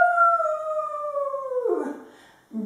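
Children and an instructor in a kids' yoga class imitate a dingo howl, a long sustained falling voiced howl near and loud, sliding down into a rougher tail, then a brief second vocal burst.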